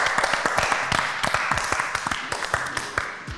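Studio audience on a French game show applauding contestants, steady dense clapping with sharp individual claps running throughout, fairly loud.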